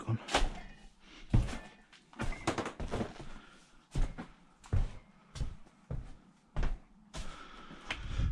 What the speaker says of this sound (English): Tape gun.